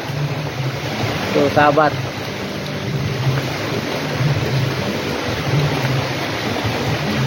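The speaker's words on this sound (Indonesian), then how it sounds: "Anginnya sepoi-sepoi." A gentle breeze blows outdoors around a hut during rain, a steady soft wash of wind and rainfall noise throughout, with a brief spoken phrase near the start.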